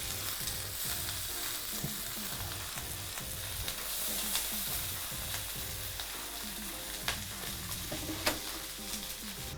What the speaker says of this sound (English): I'm gonna add these burgers in 3 at a time into the pan.